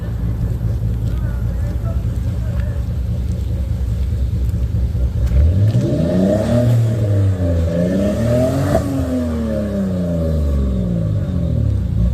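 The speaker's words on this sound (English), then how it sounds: "I just reached the car and it starts revving it." A car engine idles with a low rumble, then revs up and down repeatedly, its pitch sweeping high and back, loud and close. The engine sounds choppy.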